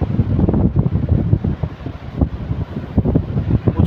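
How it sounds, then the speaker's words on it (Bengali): Strong cyclone-driven wind at Swargadwar beach in Puri before dawn buffets the microphone in loud, continuous low rumbling gusts that rise and fall without a break. "প্রচণ্ড হাওয়া হচ্ছে।"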